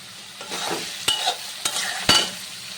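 Prawns frying in a pan for a Bengali malaikari give a quiet, continuous sizzle. A few distinct scrapes and knocks of a spatula stirring against the pan break through it, with no talking.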